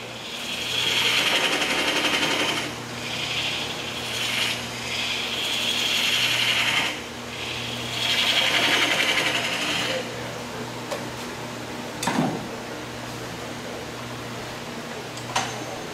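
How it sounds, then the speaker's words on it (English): A metal lathe undercuts a part for a coin funnel using the tailstock, giving a steady machine hum with a loud whining cut that rises and falls in long passes, then quieter running with a few sharp clicks. "I want to undercut this part a little bit more, just taking advantage of the tailstock."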